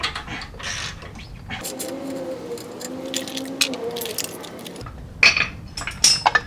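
Hand tools working on suspension bolts of a Gen4 Toyota 4Runner: irregular metallic ratcheting and clinking, close by, with brief sharper clicks toward the end.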